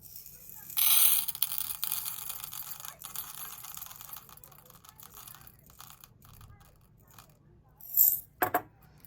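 Nerds candy poured onto a scale, a rattling stream of tiny pellets at first, then scattered clicks and handling noises, with a brief louder pour near the end.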